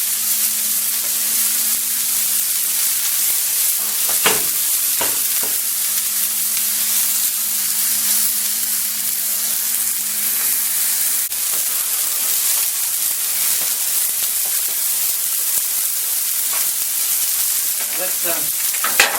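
Hamburger patties sizzle steadily on a Blackstone flat top griddle, a constant loud frying hiss with a few brief clanks and scrapes, and a low hum runs through the first half.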